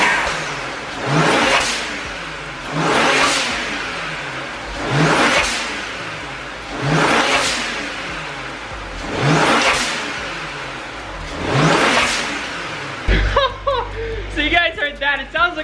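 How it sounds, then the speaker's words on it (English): A tuned BMW 135i engine with a 500+ hp kit is revved six times in a steady rhythm, each burst swelling and falling, followed by a short stretch of talk and laughter. "let's jump in the car and give it a few revs"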